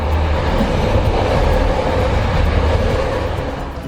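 A diesel multiple unit train at Pleven station in Bulgaria rumbles loudly and steadily, a dense continuous roar that eases slightly toward the end.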